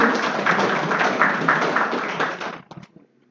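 An audience of students at a school closing ceremony for Bali Language Month applauds award winners of a Balinese poetry competition. The dense clapping holds strong, then breaks off into a few scattered final claps.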